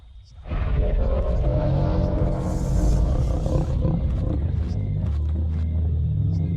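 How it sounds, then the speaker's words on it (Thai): A large creature in the survival game Creatures of Sonaria lets out a loud, sustained roar close up, a rough rumbling bellow lasting several seconds after a quieter opening. "เสียงคำราม"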